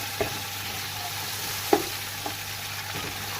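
Chicken and onions fry in a non-stick pot with a steady sizzle, broken by a few sharp scrapes as a utensil stirs them.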